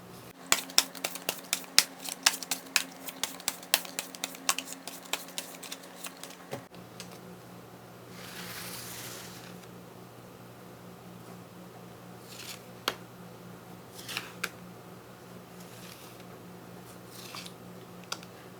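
Tarot cards shuffled by hand for a weekly fortune reading, a rapid run of crisp riffling clicks up close for several seconds, then a quieter stretch of occasional soft card flicks and slides with no one speaking.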